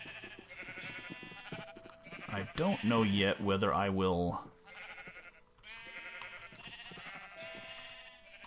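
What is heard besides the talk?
sheep bleating in Minecraft video game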